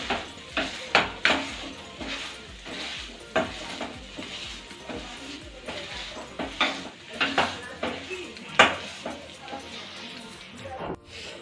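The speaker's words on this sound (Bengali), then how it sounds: "মাছের পুরটি আমি একটি ভেজিটেবিল ম্যাশারের সাহায্যে ভালো করে ম্যাশ করে নিচ্ছি।" Vegetable masher working a fish filling for fish chops in a bowl, a series of soft repeated squelching presses and scrapes with utensil clinks, close and moderately loud, no talk.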